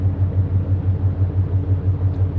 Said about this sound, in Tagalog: Pasensya na kayo sa tunog ng makina pero it's normal, no? We're on board the ship.